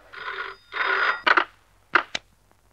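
Telephone ringing in short bursts of electronic trilling: two longer rings followed by quicker clipped chirps, fairly close and clear against a quiet background.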